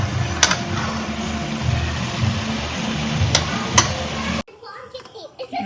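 Onions and spice paste fry with a loud, continuous close sizzle and occasional utensil clinks, then cut to quieter room sound near the end.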